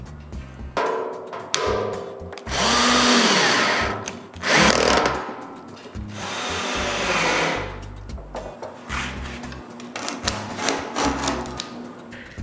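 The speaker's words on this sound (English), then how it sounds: "Next, I screw the cyclone in place." A power drill drives screws to fix a small cyclone dust separator in a woodworking shop, with several loud whirring bursts of varying length broken by brief pauses and handling knocks.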